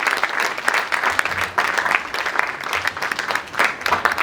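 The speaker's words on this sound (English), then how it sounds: "Please, round of applause for these three for guiding us through this session here that we just had today." An audience applauds three session guides with dense, steady clapping that swells and dips slightly over a few seconds, with no voices on top.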